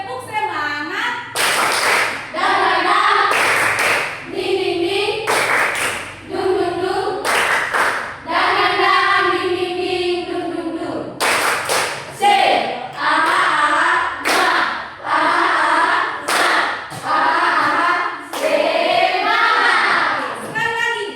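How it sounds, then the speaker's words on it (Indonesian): A class performs a rhythmic spirit clap in unison, sharp loud claps in patterned bursts alternating with a group chanting along, repeated twice across about twenty seconds in a classroom. "Tepuk semangat."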